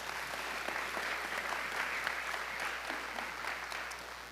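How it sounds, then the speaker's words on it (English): A town hall audience breaks into steady, dense applause, many hands clapping together at an even level for a few seconds before tapering slightly. "Let's give him a round of applause."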